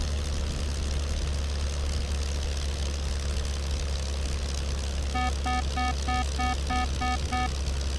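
Propeller airplane engine droning steadily in a flight simulator game as the aircraft slows with low fuel, a continuous loud low hum joined near the end by a rapid repeating electronic warning beep.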